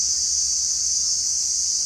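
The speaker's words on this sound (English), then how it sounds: "crickets are loud." Crickets chirping loudly: a dense, continuous high-pitched trill that stays steady and prominent throughout, with faint low rumble beneath and no voices.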